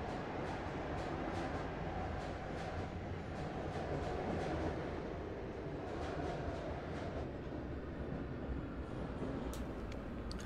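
A class 218 diesel locomotive hauling N-coaches passes as an oncoming train in Train Simulator 2017, a steady rumbling roll with faint rhythmic clatter, continuous and fairly loud throughout.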